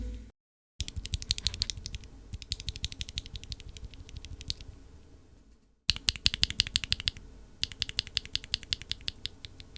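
Mechanical keyboard switches lubed with Krytox GPL 105, with bag-lubed springs, clatter under fast typing in two close, crisp bursts of rapid keystrokes separated by a brief pause.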